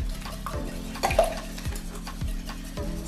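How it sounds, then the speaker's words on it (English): A whisk beats chocolate cake batter with sour cream and eggs in a bowl, a steady rhythmic scraping and clinking of about five strokes, close and fairly loud. "Again, let's whisk."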